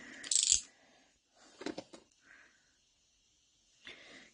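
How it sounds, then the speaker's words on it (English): Plastic wrap is peeled off a brand-new card deck in a few sharp, crinkly bursts close by, the loudest at the start and separated by quiet gaps. "managed to get the plastic off"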